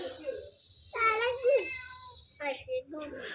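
A cat meows close by in a home, giving a couple of drawn-out, wavering cries with brief pauses between them.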